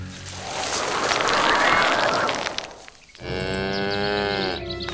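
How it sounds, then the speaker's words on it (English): Cattle on a farm low, with a long, loud harmonic moo at close range after a stretch of broad, noisy rumble, in a children's toy-tractor farm scene. "What's going on with the cows?"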